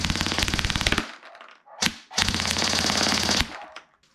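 Krytac P90 airsoft gun firing full auto in two rapid sustained bursts with a short gap between them, loud and close, with no voices.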